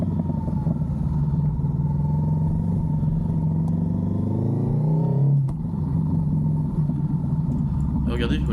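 A car's exhaust rumbles low and steady close by, with a rising rev swell midway before settling back to a throaty idle; no one speaks.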